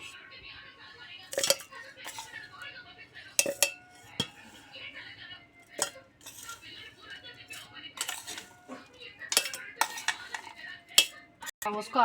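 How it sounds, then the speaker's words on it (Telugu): Jaggery, peanuts, sesame seeds and oats are stirred together in a bowl, with irregular scraping and sharp clinks of a utensil against the vessel, some strokes louder than others, over a quiet background. "బెల్లము అన్నీ కలిపి ఇలా మిక్స్ చేసుకోవాలి"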